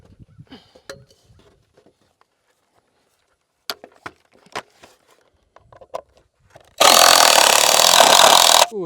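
A power driver runs a screw into recycled wood for a treehouse. Scattered knocks and handling noises come first, then a loud, steady whirring burst of about two seconds near the end.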